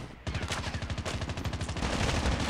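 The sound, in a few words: gunfire in Call of Duty Mobile video game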